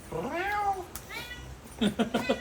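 A person imitates a cat's meow with drawn-out, rising and falling meowing calls, followed by a few short, quick voiced bursts close to the microphone.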